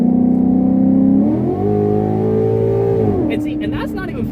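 A 2014 Ford Mustang GT engine blips on the throttle up close, the loud note climbing, holding, then dropping back toward idle, with a person starting to speak near the end.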